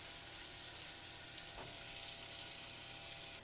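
Pork carnitas sear in a hot pot, giving a steady, dense sizzle and crackle of frying meat that runs unbroken throughout, with a brief stirring scrape midway.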